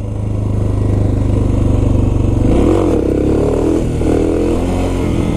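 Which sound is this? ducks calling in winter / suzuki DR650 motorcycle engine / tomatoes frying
suzuki DR650 motorcycle engine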